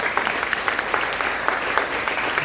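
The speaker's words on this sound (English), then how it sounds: "Don't you think this deserves a thunderous round of applause?" Audience applause at a chief-guest inspirational speech at Bharat Electronics Limited, a dense, sustained clapping from a crowd that continues steadily throughout with no voices.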